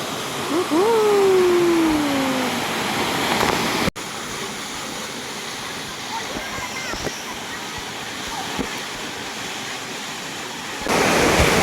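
Bendewadi waterfall near Lonavala rushes in a continuous, broad roar of falling water, with gusting wind and spray and a voice speaking briefly above it.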